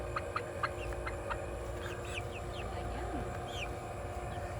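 Soft clucking and scattered chirps from chickens at a distance over a steady background hum, with a faint voice mixed in.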